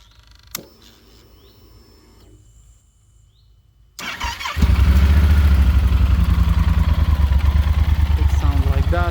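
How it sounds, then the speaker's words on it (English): A 2020 Yamaha Super Tenere 1200 Raid Edition motorcycle engine cranks and catches after a quiet stretch, then settles into a loud, steady, pulsing idle right next to the listener. "Right now I will start the engine. I will show you how it sounds."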